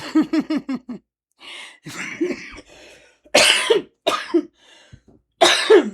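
Several sharp coughs up close, first a quick burst of four, then scattered heavier coughs with brief pauses between them.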